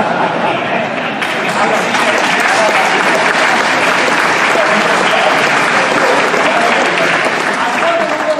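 Sustained, dense applause from a large audience at a political event in Abruzzo where Matteo Renzi and Luciano D'Alfonso sign a regional Master Plan, loud and continuous throughout with a little crowd murmur mixed in.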